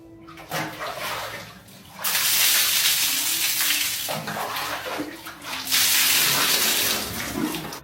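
Plain water rinses freshly washed hair without shampoo, pouring and splashing in loud bursts with brief quieter gaps, close by and with no talk.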